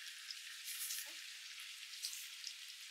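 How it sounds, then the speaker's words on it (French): Liège meatballs frying and browning in a pan, a steady high sizzle with a brief low clunk partway through, close and fairly quiet, no voices. "Et on va les laisser cuire de chaque côté, dorer de chaque côté"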